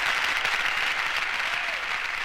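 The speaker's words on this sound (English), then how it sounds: "If y'all could hear that round of applause, give yourself a round of applause" A round-of-applause sound effect played on a live stream, a dense continuous wash of many hands clapping at even, fairly loud level for its whole length, with no voices over it.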